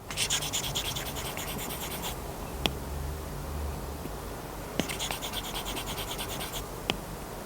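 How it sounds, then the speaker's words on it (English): An Apple Pencil scratches rhythmically across a paper-textured iPad screen protector in two close, rasping bursts of rapid strokes, with softer scraping and a few light taps between. "when using any Apple Pencil on any iPad, it will feel a lot more like drawing or writing on real paper"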